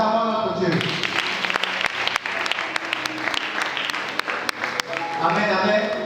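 Church congregation applauding at an Easter celebration in Pointe-Noire, a dense sustained clapping that swells for several seconds, with voices mixed in underneath.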